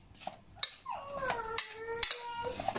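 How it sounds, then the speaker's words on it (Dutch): Ingredients being mixed in a dish while cooking pasta with sage and pumpkin: scattered clinks and taps of utensil against a pot or bowl, with a short tonal ring in the middle, close and fairly quiet. "Dan gaan we dat mengen"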